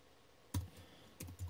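Quiet clicks of keys on a computer keyboard as a web address is typed, two short bursts of keystrokes separated by a pause, close and soft.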